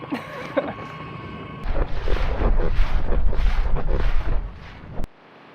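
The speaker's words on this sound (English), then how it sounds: "The wind's picked up a little bit, so we're gonna use some battery." Gusty wind rushes loudly across the microphone aboard a small boat crossing open water on battery power. The roar swells for a few seconds, then drops away abruptly.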